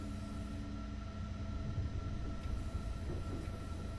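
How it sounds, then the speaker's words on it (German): An intercity train in the Train Sim World 3 game rolls slowly into Bremen main station, a steady close rumble of wheels and running gear with faint tonal hums, no voices. "Und dann fahren wir langsam in den Bremer Hauptbahnhof ein."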